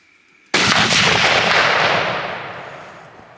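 A single loud rifle shot cracks out across open farmland, sharp and close, then its boom rolls away in a long fading echo lasting a few seconds.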